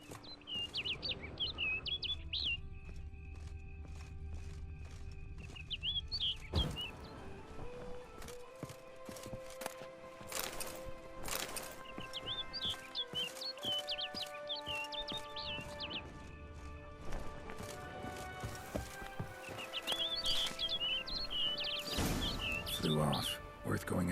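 Bird chirps and tweets ring out repeatedly in The Witcher 3, bright and fairly near, over game music, with hoofbeats or footsteps in places and someone talking between calls.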